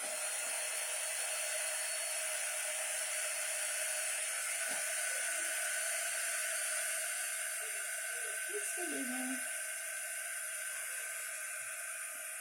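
A hair dryer drying paint on a Christmas deer craft, a loud, steady blowing hiss and whine running throughout, with faint brief sounds of handling beneath it.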